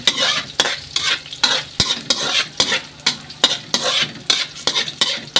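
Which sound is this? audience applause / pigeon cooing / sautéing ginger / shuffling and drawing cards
sautéing ginger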